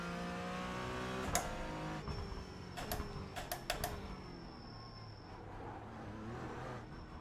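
A GT4 race car in a sim racing game laps the Nürburgring 24-hour layout at night. The engine note revs up and down through gear changes, with a few sharp clicks and taps partway through and no speech.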